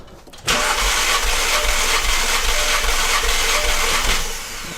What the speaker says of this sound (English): push the gas pedal to the floor, and hit the start